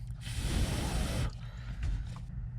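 Contact cleaner, an electrical-parts cleaner like brake cleaner, sprayed from an aerosol can onto parts during motorcycle electrical repairs: a steady close hiss for about a second, then quieter rattly handling noises.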